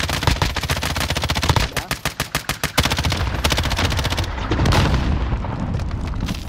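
Rapid bursts of automatic gunfire in the video game Warzone, loud and close, with distinct rhythmic shots and a sustained rattling volley, no talk over it.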